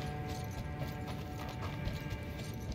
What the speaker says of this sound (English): I changed the horse to the Berserk horse, and as you can see, I can summon horses anywhere I want now,